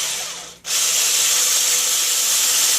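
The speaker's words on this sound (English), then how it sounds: "Now we're just going to whisk that up." Cream cheese keto pumpkin bread batter is whisked in a bowl, giving a brisk, continuous, close scraping swish that breaks off for a moment and then resumes steadily, with no talking.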